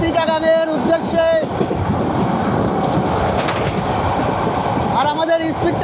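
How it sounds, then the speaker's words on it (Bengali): An express train bound for Chittagong rumbles along at speed with steady, loud wheel and wind roar, while a voice talks briefly at the start and end. "এক্সপ্রেস ট্রেন ছুটে চলেছে চিটাগাংয়ের উদ্দেশ্যে"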